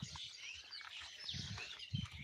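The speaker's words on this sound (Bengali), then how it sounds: "আর একটু শান্ত হয়ে শোনো পাখিরা ডাকগুলো" Birds chirp and twitter faintly amid steady breezy background noise, with occasional low rumbles of wind buffeting nearby.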